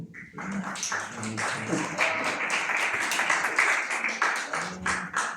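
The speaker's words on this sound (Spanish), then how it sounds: "Un aplauso." A room full of people applauds a newcomer at a school meeting, a loose, textured clatter of clapping with scattered sharper claps and some faint voices beneath.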